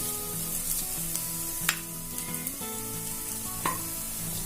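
Peanut and sesame powder with grated coconut is stirred in a hot wok, giving a steady low sizzle with a few scraping clicks from the spoon, close and without talk.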